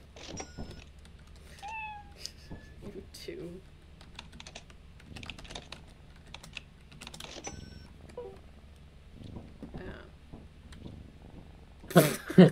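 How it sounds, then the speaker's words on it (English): A cat purrs softly while being petted indoors, a low steady rumble running under keyboard typing and occasional speech, with a brief louder burst near the end. "you are petting the kitty behind me."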